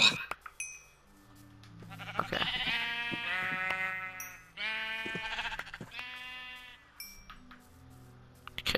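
Sheep in the Minecraft video game bleat several times in a row, clear, moderately loud cries with game sounds between them and no talk.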